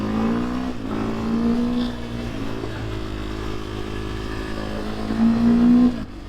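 A Sherco 450 SEF enduro motorcycle in poor running condition rides out on green lanes toward the Peak District, its engine droning steadily and close with small rises and dips in revs, then a stronger surge near the end.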